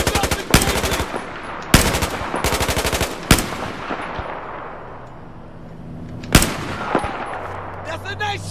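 Battlefield 4 gunfire on PS4: loud, close machine-gun bursts rattle in several rapid strings, broken by heavy single shots and distant booms, with a brief lull before another sharp blast near the end.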